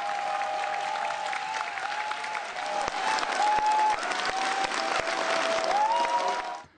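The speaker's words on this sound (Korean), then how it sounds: "여러분 큰 박수 부탁드립니다." Audience applause at a political gathering in Washington, a dense, steady wash of clapping from a crowd that holds for several seconds before fading out.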